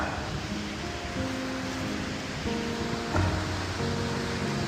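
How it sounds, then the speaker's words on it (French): The Cascade du Ré waterfall, in a cold mountain lake setting, gives a steady broadband rush of falling water that stays at an even level throughout, with faint tonal hums layered underneath and no talking. "Voilà la cascade."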